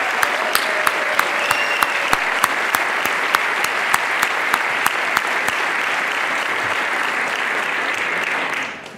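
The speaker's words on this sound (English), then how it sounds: "Let's give our younger attendees a round of applause." A large conference crowd applauds steadily, dense clapping holding at a constant level for several seconds before cutting off abruptly at the end.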